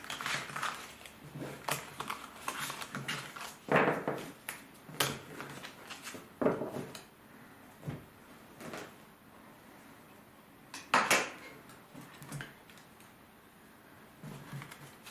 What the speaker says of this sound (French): Je ramasse toutes mes cartes.